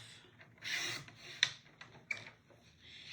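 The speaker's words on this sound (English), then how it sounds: "Now I'm going to bring back in that cutting mat. And I'm going to trim this." Paper is trimmed on a cutting mat for a card layout in a faint, close series of soft scraping slides and small clicks, with a brief sharp tick from the blade, and no voices.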